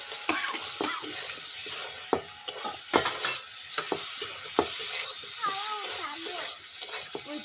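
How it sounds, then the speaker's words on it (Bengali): Spice paste with cauliflower and potato is stir-fried in a hot pan, giving a continuous close sizzle broken by repeated scraping stirs and clinks, with a brief voice-like sound partway through. "এরপরে মশলাটা ভালো করে কষিয়ে নেব।"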